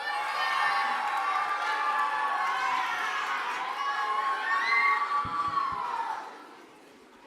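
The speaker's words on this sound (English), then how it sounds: "right, great cheering" A studio audience cheers and shouts loudly and steadily for about six seconds, with high excited voices of children and adults mixing together before the noise quickly fades away.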